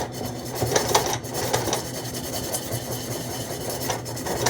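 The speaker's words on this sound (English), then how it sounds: "scrub around. And the reason for the salt is that the little granules will give it friction." A pan scrubbed by hand with coarse salt granules as an abrasive, giving a steady gritty rasping rub that runs continuously and close up, with faint rhythmic strokes and no talking.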